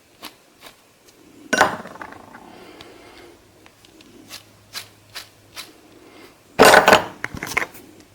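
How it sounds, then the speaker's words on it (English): The front wheel bearing of a Sportster 1200 motorcycle, first a worn one and then a good one, spins with a low grinding rumble and scattered ticks. Two loud rattling bursts break in close by. "Here's the sound of a good wheel bearing versus a bad wheel bearing"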